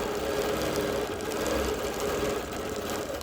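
A sewing machine runs steadily while custom quilting an alma mater quilt, a close, continuous mechanical hum and rapid stitching rattle with no talking.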